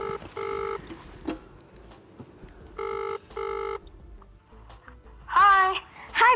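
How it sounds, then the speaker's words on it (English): Touch-tone telephone keypad dialled for a call, three steady pure beeps in sequence, followed by a warbling electronic ring tone close and clear, with faint background noise between tones. "All right, then, Ozzy, make that phone call"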